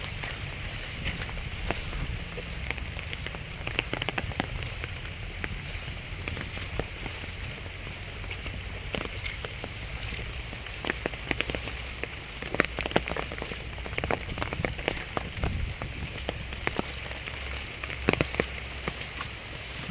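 Steady rain falling outdoors during a rice harvest, a soft continuous patter with scattered sharper drops and no voices.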